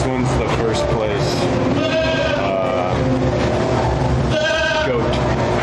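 Goat at a 4-H county fair livestock show bleats several times amid a noisy crowd, with nearby voices chatting over the steady fairground din.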